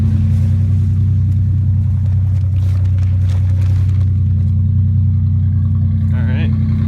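A loud 1991 Toyota pickup engine with a cut-off exhaust pipe idles with a deep, rumbling, uneven throb, very close, while a voice talks briefly over it.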